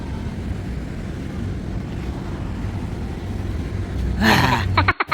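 Steady low rumble of the Miss Key West, a large boat, its engine heard over wind and water in Key West, Florida, with a brief burst of louder splashing and gusts near the end.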